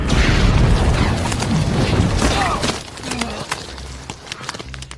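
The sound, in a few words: bomb explosion in a film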